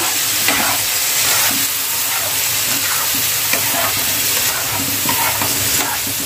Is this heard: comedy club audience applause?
no